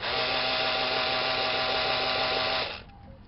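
A repaired hammer drill runs steadily at close range with a loud, even high-pitched whine for over two seconds, then cuts off and spins down to quiet.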